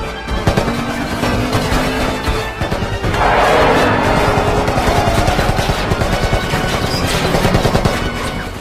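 Rapid gunfire during a film car chase, dense bursts of loud shots and impacts layered over roaring engines and crashing noise, close and continuous.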